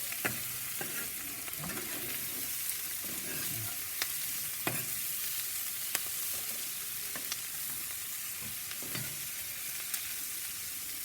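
Philly cheesesteak filling sizzles steadily on a hot soapstone over a fire, with a continuous frying hiss broken by repeated sharp scrapes and clicks from a spatula stirring, close and alone.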